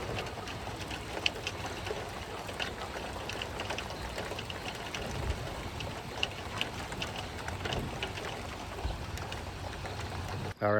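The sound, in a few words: rain falling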